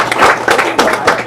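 A short burst of clapping from a small crowd at a political meet and greet in Saranac, welcoming a guest named Billy, uneven and close, lasting just over a second.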